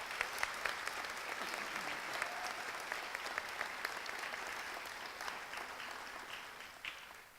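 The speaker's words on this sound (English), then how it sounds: "let's give our Bowie voices under the direction of Jermaine LeBeau one more round of applause" A school audience claps steadily for a choir performance, a dense patter of many hands at moderate distance, sustained throughout and tapering slightly at the end.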